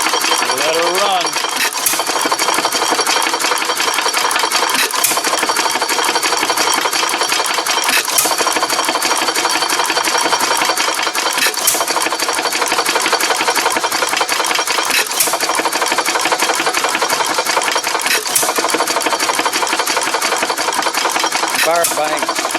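A 1918 Fairbanks Morse Z series 1.5 hp headless hit-and-miss engine runs loud and close, a steady mechanical chugging with periodic stronger firing beats throughout.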